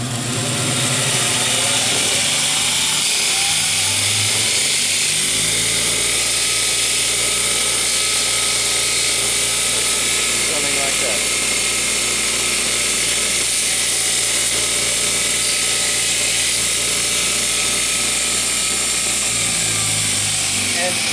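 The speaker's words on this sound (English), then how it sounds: "So just take it over the grinder and just a very light grind." A bench grinder lightly grinds a bevel on a steel weld-in insert, producing a loud, steady high-pitched grinding whine over a motor drone that continues throughout.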